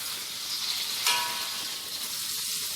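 Food frying in a pan until crispy, for a mushroom rice set meal: a steady, close hiss of sizzling oil runs throughout, with a brief louder crackle near the middle, and no talking.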